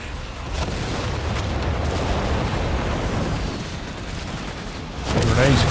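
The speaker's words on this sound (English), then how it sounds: "Oh, those Gherkin nades are nasty." Grenade explosions in a Company of Heroes 3 3v3 battle fought over a central victory point, a steady roar of booms and bursts with a louder blast near the end, and a voice in the mix.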